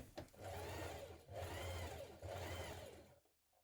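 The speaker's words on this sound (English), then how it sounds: "So I'm understitching that seam towards the facing, the back neck facing." Sewing machine understitching a seam toward the back neck facing of an unlined jacket, three close, steady whirring runs of stitching separated by brief pauses, then stopping.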